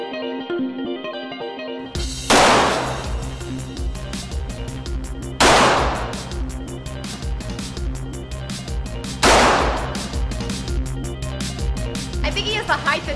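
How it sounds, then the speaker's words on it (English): Handguns, including a Ruger Mark III target pistol, and a rifle fire at a shooting event: three loud, sharp reports spaced about four seconds apart, each ringing out with echo over a steady background hum. "We shot a couple of different handguns and a rifle."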